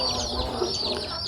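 Young chicken chicks kept through winter chirp in a continuous chorus of high peeping calls, close by with low background noise.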